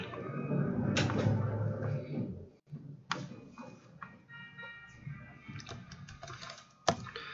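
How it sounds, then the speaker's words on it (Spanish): A computer keyboard clicks in short bursts of keystrokes while Cuphead is played, close and crisp, scattered taps between stretches of game music and ambience, no talking. "Yo voy a jugarlo con teclado"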